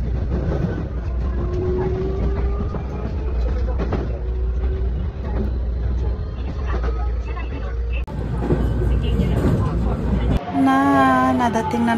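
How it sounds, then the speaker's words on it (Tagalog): A Nankai train in Osaka running on rails, a loud continuous rumble and rattle of wheels close by, with brief squeals and a tonal whine near the end. "Ayan na yung Nankay train."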